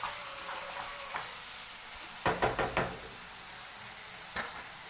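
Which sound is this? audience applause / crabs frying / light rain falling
crabs frying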